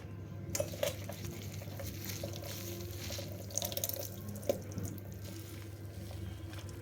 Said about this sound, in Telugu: ఆకుల్ని శుభ్రంగా మరోసారి కడిగేసి పిండి ఇందులో వేసుకోవాలి